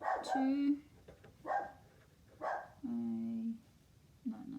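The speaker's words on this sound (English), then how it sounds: "Got confused because my dog's barking." A pet dog in a home barks in a few separate short and drawn-out bursts, fairly faint and in the background, between bits of a person speaking.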